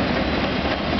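A CN freight train carrying auto frames rolls past in Burlington, Ontario, a loud, dense rumble of railcars close by, steady over its short span with no talk.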